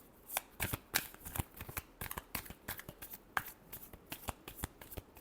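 Tarot cards are shuffled by hand, a rapid run of crisp riffles and snappy flicks repeating for several seconds, close and fairly quiet with no talking.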